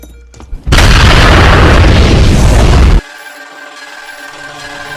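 A massive explosion rips through the Umbrella Corporation base in the Resident Evil film, erupting as a sudden, loud, sustained boom that roars for about two seconds before cutting off abruptly into quiet background sound.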